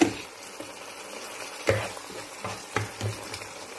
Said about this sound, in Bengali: আমি এখন একটু নাড়িয়ে নেব